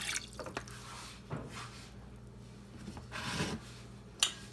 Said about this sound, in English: In our pot, we're going to add 1 cup of water.